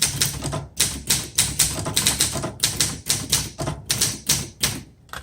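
A 1974 Olympia SM8 manual typewriter types out a sentence: a close, loud, steady run of sharp key strikes with irregular rhythm and brief pauses between words, with no voices.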